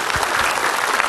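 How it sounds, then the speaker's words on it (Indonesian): Audience applause for Ustadz Maulana at a televised Islamic talk show, a dense, steady clapping crowd filling the whole moment at close range. "Tepuk tangan Ustadz Maulana"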